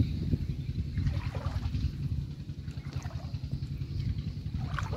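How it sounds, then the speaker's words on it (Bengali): Flood water after heavy rain in Kolkata sloshes and trickles with rhythmic lapping and splashing, close and moderately quiet, with a low rumbling background throughout. "কলকাতা পুরো জলে জল চারদিকে।"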